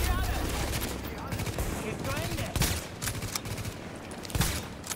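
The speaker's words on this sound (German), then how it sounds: "Natürlich von überall jetzt hier geschossen." Gunfire from the video game Tom Clancy's The Division: dense bursts of shots and crackling fire from several directions throughout, with scattered sharper bangs and faint speech beneath.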